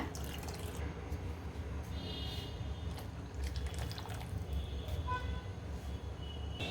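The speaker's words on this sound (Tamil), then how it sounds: "இந்த ஸ்டேஜில் அடுப்பை நல்லா குறைச்சி வச்சுட்டு கடலை மாவு கரைச்ச தண்ணியை சேர்த்துக்கோங்க" Gram flour mixed in water pours and splashes softly into a pot of sambar, a low watery trickle with faint drips and clinks, steady throughout without any voices.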